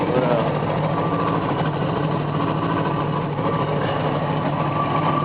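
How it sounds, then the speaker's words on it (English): Exhaust of a Dodge Aspen wagon with a misfiring engine not running on all cylinders, a continuous low, rough idle rumble heard up close at a steady level. "It's really sputtering back here too. I don't think it's firing on all cylinders."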